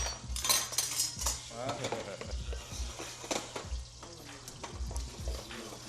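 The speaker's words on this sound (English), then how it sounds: "So you fold in your cheese right after." Cheese, including goat cheese, gets folded into risotto in a pan with a wooden spoon, giving repeated close scraping and stirring strokes, soft clinks against the pan and a light sizzle with no speech.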